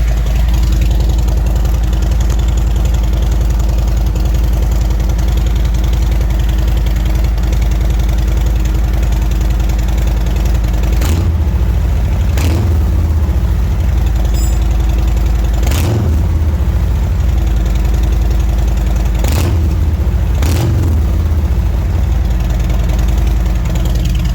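A loud, steady Harley-Davidson Street Glide engine idling nearby in light rain with a low rumbling pulse, broken by several brief throttle blips.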